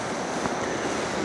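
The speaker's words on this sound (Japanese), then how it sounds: "南の風がね吹いてますね。" A steady south wind blows at the seaside, a constant broadband rush of wind and surf noise buffeting the microphone with no voices, even and unbroken throughout.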